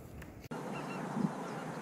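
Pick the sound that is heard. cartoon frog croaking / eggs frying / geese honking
geese honking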